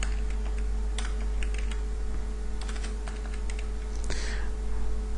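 Computer keyboard typing while a sentence is entered into a text tool in image-editing software, a steady run of close, light key clicks with a low hum underneath and no voice.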